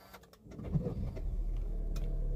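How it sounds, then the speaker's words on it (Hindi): A Honda Civic's engine cranks and catches, then settles into a steady low idle that fills the rest of the moment, close and fairly quiet with no voices. "ये इस गाड़ी का स्टार्टअप"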